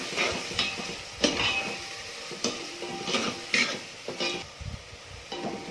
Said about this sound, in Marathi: कांदा मस्त कुरकुरीत झालेला आहे चिकन घालून घेते